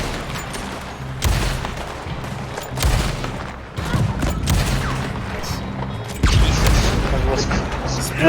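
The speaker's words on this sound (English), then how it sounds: "Explosions!" Explosions and gunfire in the Western video game Red Dead Online, booming bursts and crackling shots in repeated loud waves, with players talking over the action.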